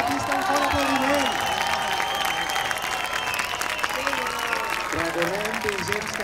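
Dense, continuous audience applause fills an arena as the Diables del Prat percussion band enters at a Barcelona percussion contest semifinal, loud and sustained with a few voices calling out over the clapping.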